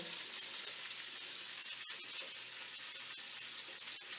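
Onions sizzle steadily in a hot pan alongside frozen pierogies, a continuous bright frying hiss with a few sharp pops and crackles, fairly loud and close with no talking.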